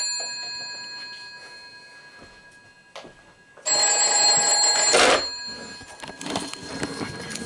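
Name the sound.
GPO 746L telephone bell ringing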